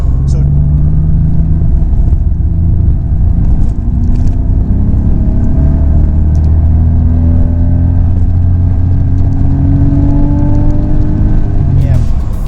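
A 986 Porsche Boxster engine drones steadily at about 4,000 RPM, rising slightly in pitch, loud and close throughout with a brief tail-off near the end.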